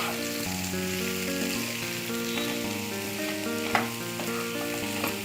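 Brinjals fry in oil with spicy masala paste for a gravy, a loud, unbroken close sizzle with occasional stirring knocks of a spoon against the pan and a steady musical tone underneath; no speech.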